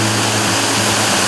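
Waterfalls in the cerrado near Wanderlândia, Tocantins roar as a loud, dense, unbroken rush of falling water, close and steady with no voices.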